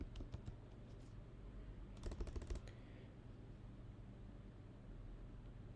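Quiet, close clicking of a computer keyboard while code is entered, with a few scattered taps, then a quick burst of keystrokes, then near silence over low room hum.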